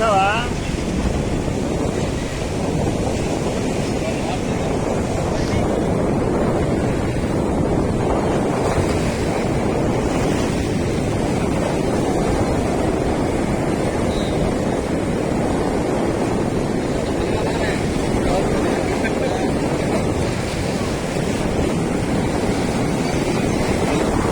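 The flooded Krishna river surges past near a railway bridge in a loud, constant rushing roar, with wind buffeting the microphone throughout.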